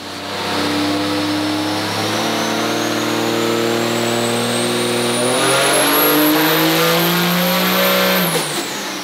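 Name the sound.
1607HP 6.7L flatbed truck engine revving on a dyno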